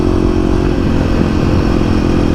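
A Kawasaki KLX250 dual-sport motorcycle being ridden, its engine a loud, steady, close drone with constant wind rush and no break.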